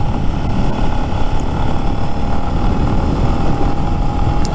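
A Lifan X-Pect motorcycle is ridden with its engine droning steadily and loudly throughout, a constant close-up roar mixed with wind rush, no talking.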